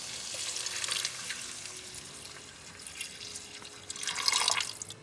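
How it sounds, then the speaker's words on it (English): Water splashes and trickles into a hot pan of strained stovetop lasagna ingredients in short pours, sizzling faintly, with a louder gush near the end. "gonna add some water."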